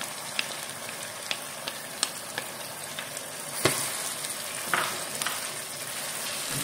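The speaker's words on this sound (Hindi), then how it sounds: "दही और नमक के साथ में चिकन को अच्छे से भूनेंगे" Chicken pieces fry with yogurt and salt for a white korma, giving a continuous crackling sizzle dotted with small pops and a couple of louder spatula scrapes against the pan partway through.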